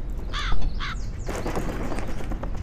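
In the video game Shadow Wolf Mysteries, a crow gives two quick, harsh caws near the start over a steady outdoor ambience, then the background continues without further calls and no one speaks.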